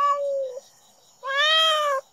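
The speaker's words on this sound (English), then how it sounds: "This is the sound of a cat that's been calling for her family for days." An abandoned tabby cat meowing: two loud, close, plaintive meows separated by a short pause, with no talk.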